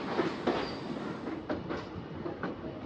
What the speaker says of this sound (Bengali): চলো তাহলে একদম অন টাইম বিকেল 5টার সময় ট্রেন আমাদের ছাড়লো মালদা টাউন থেকে।